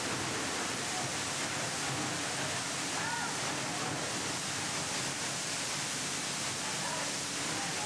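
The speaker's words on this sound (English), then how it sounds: "as mesmerising is the cascading water flow of spectacular waterfalls" Cascading water of a spectacular waterfall in Fiji pours in a steady, dense, hissing roar that fills the whole stretch without a break, heard close up, with a voice narrating over it.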